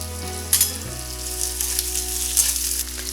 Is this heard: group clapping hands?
no